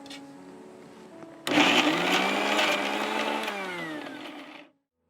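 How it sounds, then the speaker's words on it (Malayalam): An electric mixer grinder blending chutney switches on abruptly into a loud, high whirring roar that runs for about three seconds, dips slightly in pitch, then cuts off into silence. "അപ്പോൾ നമുക്ക് മിക്സി ഓൺ ചെയ്ത് നോക്കാം എങ്ങനെയുണ്ടെന്ന്"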